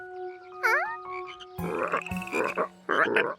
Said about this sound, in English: These loud frogs probably scared the tadpoles away.